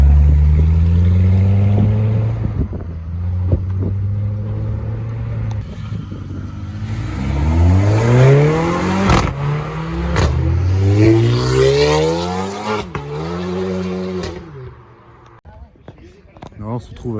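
A Renault R5 Turbo phase 2 accelerates on the street in Deauville, its engine note climbing through several gear pulls with rising and falling pitch, fading near the end amid passing traffic and talking voices.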